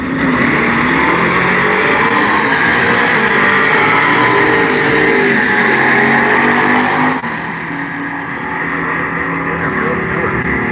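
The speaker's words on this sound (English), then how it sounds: "Sound like he was rowing, missing shifts, but he won." A drag racing car at a Halloween Classic drag strip event runs loud and continuous, its engine note missing shifts. The roar is steady and dominant before dropping slightly near the end, with no clear talk above it.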